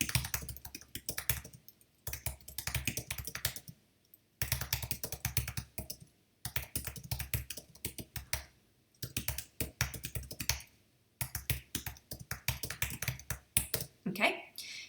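Keys on a computer keyboard clatter in quick bursts of typing, separated by short pauses, close and fairly loud, with a voice speaking at times.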